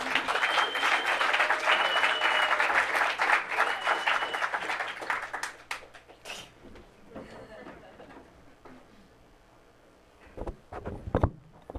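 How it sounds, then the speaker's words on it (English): A comedy-show audience claps and cheers loudly for several seconds as a comedian takes the stage, then the applause fades to scattered claps and movement before a brief final burst. "you guys out there clapping"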